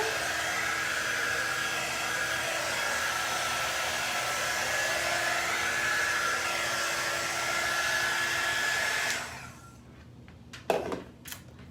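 A hair dryer roars steadily and loudly for about nine seconds while drying paint on a craft piece, then shuts off abruptly, leaving a few faint clicks and handling knocks.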